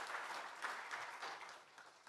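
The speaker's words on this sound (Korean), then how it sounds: "인사하고 들어갈 때 큰 박수로 축복하겠습니다." A church congregation at a Sunday service installation ceremony claps in warm applause, a faint, distant patter of many hands that carries on steadily for about two seconds.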